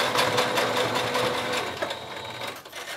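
A sewing machine runs steadily, stitching a fabric deaconess-style protective mask. The close, continuous mechanical chatter lasts the whole time with no pauses.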